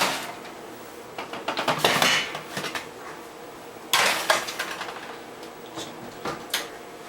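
Metal roasting pan of browned beef bones handled and slid into an oven: clattering, scraping metal clanks in two clusters, a sharp bang of the pan or oven door, then a few lighter knocks, close by with no talk.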